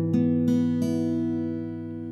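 Single acoustic guitar chord for the worship song Hosanna, strummed a few times in quick succession and then left to ring and slowly decay, close and alone.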